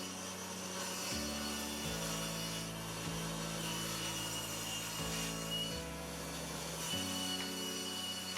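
Table saw ripping a live edge board on a jointing sled, a steady loud whining cut with the motor pitch dropping in steps as the blade loads, no talking.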